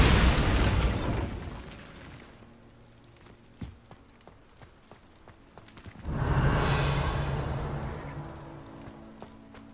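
Bombarda blasting spell explosions in the Hogwarts Legacy video game, with a loud booming burst at the start, a quieter stretch of small pops and clicks, then a second heavy rumbling blast that slowly fades.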